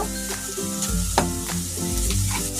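Loud close sizzle of onion and tomato frying in a pan for chicken curry as ginger paste goes in, with stirring clatter and a low steady hum beneath, no voices.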